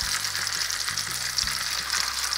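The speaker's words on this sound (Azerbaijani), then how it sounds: "Deməli bir üzü qızardı. İndi çeviririk o bir üzərinə." A sandwich fries in hot oil in a pan, giving a steady dense sizzle throughout, with a few soft low knocks from the pan as it is handled.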